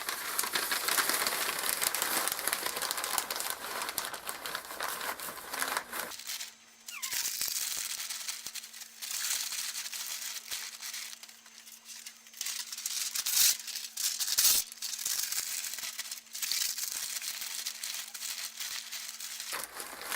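Paper is crumpled and crinkled by hand to shape an embankment on a model railway layout, with continuous dense rustling close by. A steady faint hum runs underneath and there are occasional sharper crackles. No one speaks.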